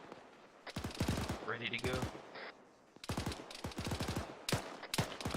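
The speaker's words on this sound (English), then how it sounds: "I'm seeing rounds come in from that tower to our northeast" Incoming gunfire rounds crack in rapid automatic bursts during platoon training outdoors, loud and repeated, with brief pauses between volleys while someone talks briefly over them.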